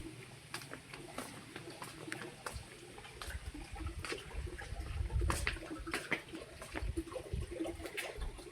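Water running and splashing as a swimming pool's water is changed, an irregular patter of drips and small splashes with occasional sharper spatters, faint and fairly close, with no talking.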